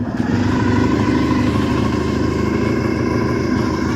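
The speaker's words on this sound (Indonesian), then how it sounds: "Motornya unik banget suaranya." A rare Honda motorcycle with a gear-driven engine runs close by, its whining, droning note held steady and loud throughout, with no voices over it.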